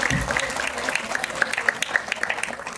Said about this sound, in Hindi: वर्षा जी ने जोरदार तालियां।